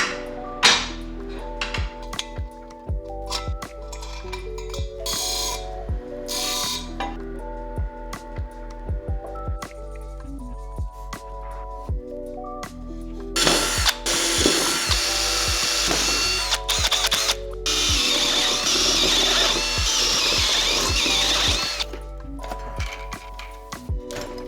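Bolts going into a claw machine gantry frame during the build: bursts of power driver whirring and ratcheting with metallic pings and clinks, then a longer sustained high buzzing run near the end, close and without talk.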